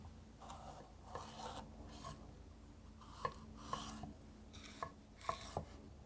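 A knife slices a yellow bell pepper lengthwise on a cutting board, with the seeds and stem removed; a series of soft rasping cuts ends in sharp taps against the board, close and fairly quiet, and no one speaks.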